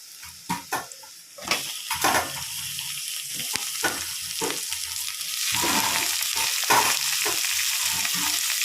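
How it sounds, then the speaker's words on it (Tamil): Tomatoes sizzle and fry in a pan with onion, ginger and garlic, a steady crackling hiss broken by sharp clinks of a spoon stirring against the metal, with the sizzle growing brighter toward the end. "தக்காளியை போட்டு நல்லா வதக்கிக்கலாம்."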